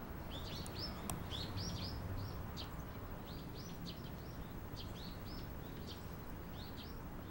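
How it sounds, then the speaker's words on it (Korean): Japanese white-eyes chirp among camellia flowers, a steady run of short, bright, high tweets and calls repeating over a low, constant background rumble, moderately near and with no voices. "동박새가 날아들어 동백의 풍부한 꿀을 먹고 꽃가루 바지를 한다."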